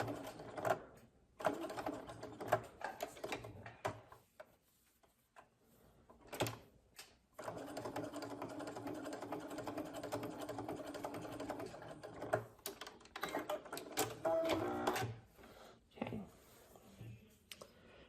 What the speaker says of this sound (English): just do a stay stitch for that 1 inch on either side of your V point